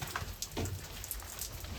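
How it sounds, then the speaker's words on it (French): Rain falling outdoors during a camping trip in Aveyron, a dense, soft patter of drops on surfaces, close and continuous for about two seconds. "On ne prend pas ici, il pleut."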